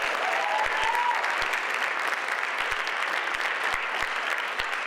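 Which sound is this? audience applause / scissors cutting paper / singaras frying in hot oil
audience applause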